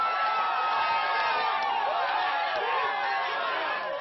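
A large crowd gathered outside a police station in Magé roars and jeers in a dense, continuous wall of voices, loud and close, with shouts rising out of it.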